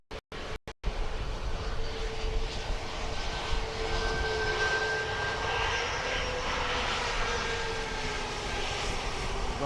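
A Ryanair jet taxis at Dublin Airport, its engine whine holding a steady roar after a few brief bursts of noise at the start, with a faint tonal hum running through.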